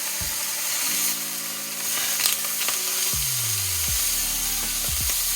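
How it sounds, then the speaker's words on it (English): Food searing in a hot pan during home cooking of a meal kit, a continuous bright sizzle with a low hum and tonal whine running underneath, loud and close with no talking. "There's the sizzle."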